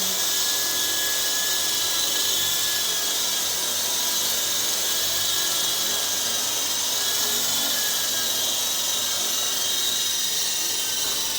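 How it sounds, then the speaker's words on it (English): An MJX645 4-channel RC helicopter hovers indoors, its small rotors and motor making a steady, high, whining buzz that stays even and close throughout. "It's just a little hover test indoors to see how"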